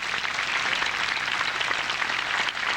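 A graduation audience applauds in a dense, steady roar of many clapping hands that holds evenly throughout.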